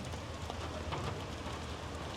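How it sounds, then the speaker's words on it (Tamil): Steady rain falls by a lake, a dense, even hiss of drops on surfaces that holds at constant level throughout, moderately loud with no voices. "மழை வந்துட்டு இருக்குல்ல"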